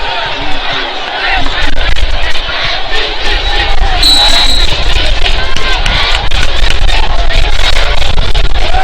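A packed crowd at a high school football game at Eastview High School roars and shouts continuously, loud and close, with a commentator talking over the noise.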